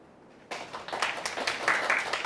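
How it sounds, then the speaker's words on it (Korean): An audience claps in a lecture hall, with applause starting abruptly and continuing as a moderate, fairly thin patter of hands at middling distance. "박수 소리가 조금 작은 것 같습니다"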